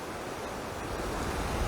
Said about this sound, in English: at low tide it's going to be way out to where that wave is now breaking